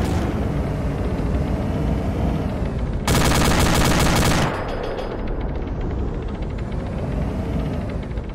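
Automatic gunfire erupts at a roadblock in a military shooter game, a loud sustained burst of about a second and a half cutting through constant heavy vehicle rumble, close and harsh.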